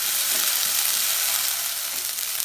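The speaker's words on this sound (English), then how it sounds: "Fry it nicely till the raw flavor of ginger garlic paste diminishes." Ginger garlic paste fries in a pan with a steady, dense sizzle that holds evenly throughout, close and fairly loud, with no voices.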